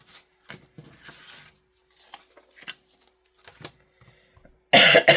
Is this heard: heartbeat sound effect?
no